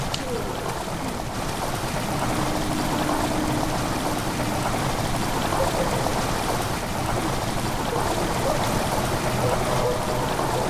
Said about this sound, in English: Water rushing into the chamber makes a strange sound.